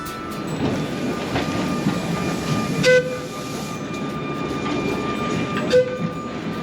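A train rumbles along the rails in a steady, continuous roar, with two brief higher-pitched tones rising above it.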